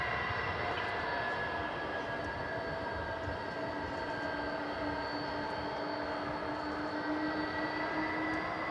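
A McDonnell Douglas MD-11 cargo aircraft at DFW airport produces a steady, distant engine roar with a faint whine, constant and unbroken throughout.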